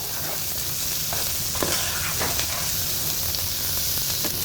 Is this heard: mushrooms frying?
yes